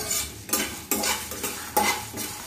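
Chillies and masala spices dry-roasting in a pan for a bitter gourd curry, stirred in four or five rhythmic scraping strokes of a metal spoon with a light sizzle underneath, close up.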